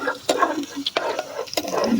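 Chillies and onions stirred in a frying pan with oil, a few sharp scraping strokes over a steady low sizzle, close and fairly loud.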